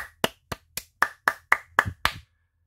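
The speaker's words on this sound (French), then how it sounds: "suivi de mes fameux applaudissements" A single person claps hands nine times in a quick, even rhythm, each clap sharp and close, then stops; no voices.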